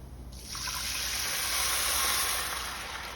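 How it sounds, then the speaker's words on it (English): Water poured into a hot pan of toasting brown rice, a sudden steady rushing hiss and sizzle that starts abruptly and carries on alone without voices. "So just let it toast and add some water."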